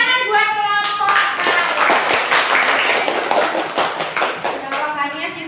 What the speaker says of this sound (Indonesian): Kasih tepuk tangan buat kelompok A.